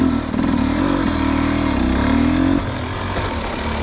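A motorcycle engine revs steadily on a muddy trail in pouring rain, holding a loud, buzzing drone that eases off slightly near the end.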